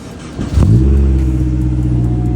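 A Honda S2000 with a carbon fiber duckbill cranks and fires on a cold start, catching with a sharp rev before settling into a loud, steady, rumbling idle close by.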